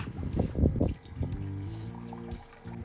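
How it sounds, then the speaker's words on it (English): Tequila poured from a bottle into a pitcher of grapefruit juice while mixing margaritas: a steady liquid stream that glugs and trickles for a couple of seconds, close and moderately loud, after some brief handling noise. "Now we are pouring the tequila in."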